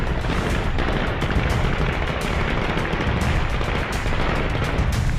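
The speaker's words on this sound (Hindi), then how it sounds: "ये फायरिंग उसी के जश्न में है" Dense, continuous bursts of automatic gunfire from Taliban fighters celebrating the capture of Panjshir, Afghanistan, crackle loudly and without pause, overlapping into a steady roar of shots.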